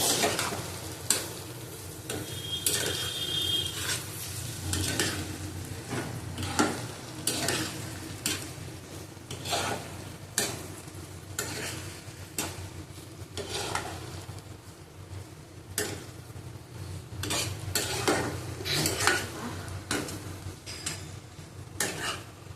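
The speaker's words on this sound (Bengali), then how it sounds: "ভেন্ডিটা দিয়ে দিলাম। ভালো করে কষিয়ে নেবো আবার।" Okra stir-fried in a pan for an okra and potato dish with prawns, giving a steady close sizzle broken by repeated scraping and clinking of a spatula against the pan, with no voices.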